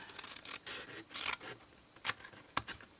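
Several short crisp snips and rustles of a cheap pair of scissors cutting paper for a craft money pouch, close by, in quick irregular bursts with brief pauses between.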